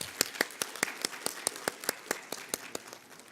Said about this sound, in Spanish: quería pedir un aplauso para la doctora Ludovina Villanueva porque en verdad es una buenísima obra.